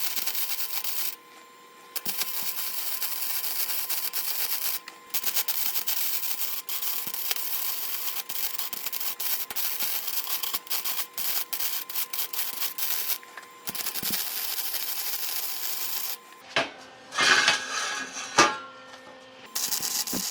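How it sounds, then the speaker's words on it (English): Welding scrap steel for a truck hitch mast mount produces a steady, even crackling buzz that stops briefly in places, with a few louder clanks near the end. "So let's weld up this side also."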